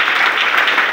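A church congregation at a special gathering applauding, a dense, loud, steady wash of many hands clapping together.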